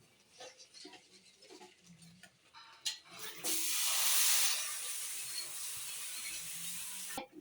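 A pot of curry boils on a busy stove, with a few faint clinks at first, then a loud, sustained bubbling hiss that rises suddenly and carries on steadily close by.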